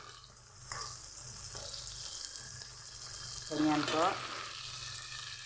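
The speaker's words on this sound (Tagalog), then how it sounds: "Niluluto ko ngayon ay yung sili at okra." Chili peppers and okra fry in a pan with a steady sizzle, stirred now and then, and a louder burst of sizzling near the end while someone briefly speaks.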